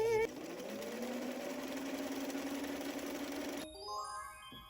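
A sewing machine runs steadily with a low, even whir while edge stitching a dress lining, then stops abruptly, leaving faint ringing tones and quiet background.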